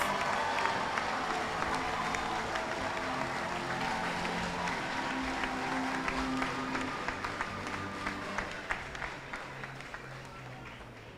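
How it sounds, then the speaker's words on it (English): Parents and well-wishers give a long, rousing round of applause at a boys' high school valedictory service, a sustained wash of crowd clapping that carries on for over ten seconds with faint murmuring underneath. "I now invite the parents and well-wishers of these legends to give a rousing round of applause."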